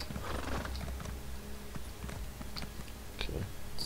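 Horse hooves clip-clop steadily in Elder Scrolls Online, a close, even rhythm of hoofbeats with a brief whinny and snorting, no talk over them.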